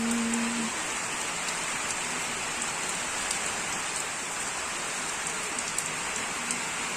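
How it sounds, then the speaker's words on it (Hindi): Heavy rain pours steadily in Yeldari village, a dense continuous hiss of drops on surfaces that holds at an even level throughout with no voices. "येलदरीमध्ये जोरदार पावसाची सुरुवात."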